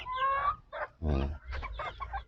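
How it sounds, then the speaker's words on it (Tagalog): A Texas rooster clucking and calling nearby in short, throaty bursts, several loud vocalizations in quick succession. "Ayan, tandang."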